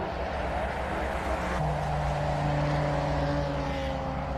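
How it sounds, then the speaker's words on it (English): A Porsche race car at a classic car hillclimb, its engine a steady distant drone holding a sustained tone that shifts pitch slightly as it passes, unbroken by talk. "Oh, listen to that Porsche."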